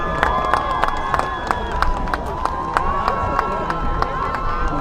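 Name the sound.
crowd applause and cheering at football game senior recognition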